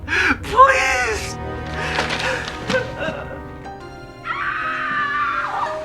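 A woman lets out shrill, sustained screams of fright at the sight of a white mouse in a horror film scene, the cries rising over other voices and background sound.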